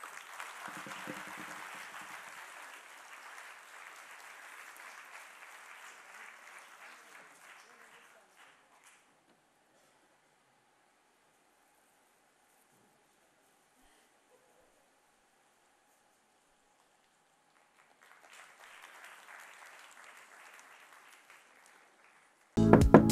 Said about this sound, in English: the loudest round of applause